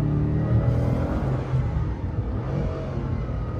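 Bugatti Chiron Pur Sport engine downshifting, a deep, rumbling growl with rising and falling rev tones heard close up for a few seconds, no voices.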